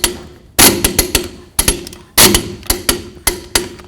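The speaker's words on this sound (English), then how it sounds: "Let's get these torqued to 150 foot-pounds." Lug nuts on a rear wheel of a 2004-08 Ford F-150 are torqued to 150 foot-pounds, giving a series of sharp, loud metallic clicks and knocks in irregular bursts, close up with no talking.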